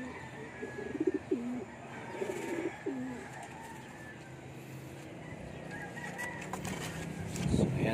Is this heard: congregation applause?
no